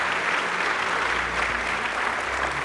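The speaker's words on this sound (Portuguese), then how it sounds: "Dá uma salva de palmas para Jesus" A church congregation breaks into sustained applause, a dense steady patter of many clapping hands filling the room with a low hum beneath, no voices standing out.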